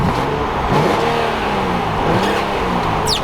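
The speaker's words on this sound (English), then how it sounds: "that distinctive raspy sound of that VQ37 engine when you rev the Z, or while getting the QX50" Infiniti QX50 with a VQ37 V6 revving, a raspy mid-pitched engine note rising and falling in a couple of quick blips, close and loud throughout with no talking.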